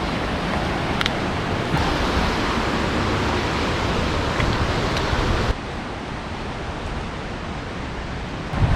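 Mountain stream flowing beside the trek from Kareri village toward Rioti, a loud steady broadband rush of water with no pauses, softening slightly partway through, no voices.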